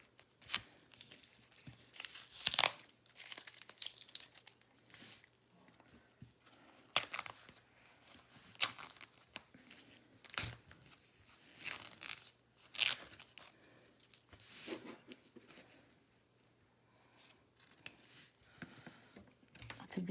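Tape peeled off and thin water-soluble embroidery stabilizer snipped with scissors, close-up, in irregular bursts of crinkling, tearing and crisp cuts separated by quiet pauses.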